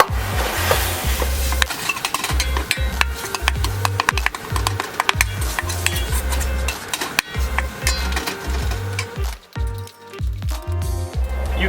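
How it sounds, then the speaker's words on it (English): Pork searing in a wok on a Kamado Joe grill, with steady close sizzling and repeated scraping and clanking as it is stirred, continuous with no talking. "we're going to cook this pork off and then we'll build the dish"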